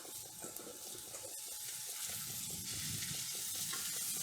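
Squash sizzles in a hot frying pan while being stirred, a continuous crackling fry with soft scraping from the spoon, close and steady and gradually growing a little louder.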